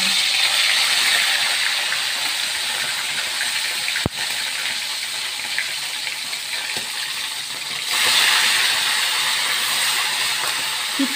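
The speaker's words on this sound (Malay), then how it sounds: "Kita goreng sardin ini. Minyak pun dah panas ya." Sardines fry in hot oil for Malaysian sambal sardin, making a loud, continuous hiss and spatter close by, with a sharp tap near the middle and a brief swell in intensity toward the end, no voices.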